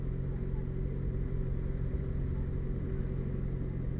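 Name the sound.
Yamaha XJ6F motorcycle riding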